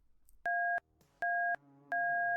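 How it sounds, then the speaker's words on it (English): Three long, loud electronic alarm tones, each steady and evenly spaced, sounding from above like a fire station alert, with faint background tones between them. "4 long, loud tones rang out from above."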